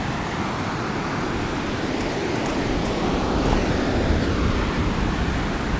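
Ocean surf on a shore where the tide has pulled back to expose a flat rocky shelf: a loud, steady roar of breaking waves, constant and close, with no voices.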